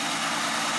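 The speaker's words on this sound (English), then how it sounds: "Sounds like we have an exhaust leak." Under a hood, a 1940 Plymouth DeLuxe flathead six idles with a cracked exhaust manifold, giving a loud, close, steady rumble with a raspy hiss over it for under a second.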